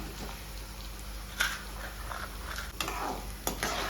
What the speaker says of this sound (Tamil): வெந்தயம் போட்ட கையோட கடலைப்பருப்பு, தனியா இப்போ சிம்மில் வச்சுக்கோங்க கொஞ்ச நேரத்துக்கு